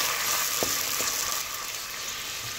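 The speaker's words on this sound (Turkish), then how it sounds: "Küp küp doğradığımız soğanlarımızı da tenceremize alıp kavuruyoruz." Diced onions frying in olive oil in a pot, a steady close sizzle and hiss running throughout the short stretch, with a couple of faint stirring knocks near the start.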